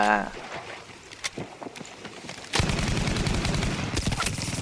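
A KE7 heavy machine gun in Battlefield V fires a rapid, loud stream of shots that starts partway in and hammers on steadily, with a voice heard briefly at the beginning.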